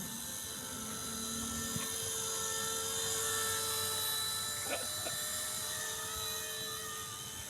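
An RC ERA Bell 206 model helicopter flies outdoors with a continuous high-pitched whine from its electric motor and rotor, steady in loudness throughout, a brief knock partway through.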